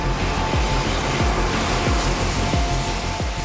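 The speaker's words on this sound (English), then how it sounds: "This airplane, the LM100J, took off and flew just like any other C-130." A Lockheed LM100J turboprop aircraft roars loudly and steadily as it takes off and flies, its broad engine noise filling the scene without a break, with a faint high tone beneath and no speech.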